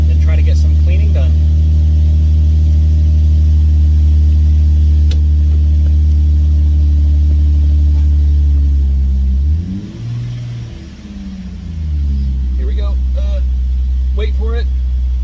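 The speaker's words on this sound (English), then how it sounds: "just gonna let the car warm up a little bit" Car engine idling while warming up, a steady low hum with a brief dip and swell in the middle, loud and close with faint background clicks.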